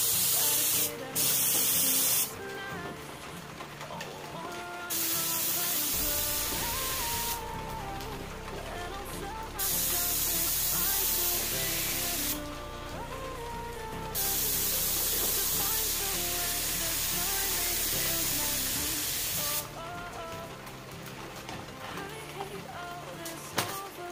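A DeVilbiss TV3200 spray gun sprays during an atomization test, giving several long, steady hissing bursts separated by short pauses over quiet background music.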